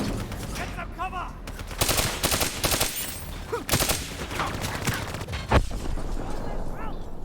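Heavy video game gunfire in Call of Duty Black Ops III, with rapid automatic bursts and sharp shots sounding loud and continuous, mixed with crackling battle noise and voices.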